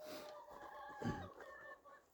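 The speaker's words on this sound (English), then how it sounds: "The chickens are over there having some fun." Chickens cluck softly near a backyard coop kept on deep litter bedding, a few scattered faint calls with a slightly louder burst midway.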